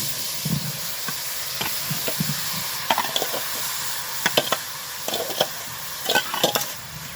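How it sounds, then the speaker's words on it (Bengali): Raw mango pieces go into a hot kadai of melted sugar for pickle, bringing a steady hiss and sizzle broken by irregular clicks and scrapes of stirring. "এবার দিয়ে দেবো গরম কড়াই আমটা"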